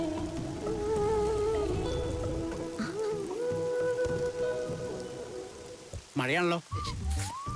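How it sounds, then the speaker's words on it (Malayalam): Steady rain falls close by as a dense, even hiss lasting throughout, with tonal music and effects layered over it and a few sweeping chirps near the end. "മഴയാണല്ലോ."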